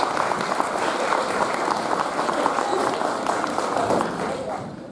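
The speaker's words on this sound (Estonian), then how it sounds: "suur aplaus vahvatele mudilastele" Sustained applause from an audience at a school Christmas party after a children's performance, a dense steady patter of clapping filling the room, with an announcer's voice speaking over it.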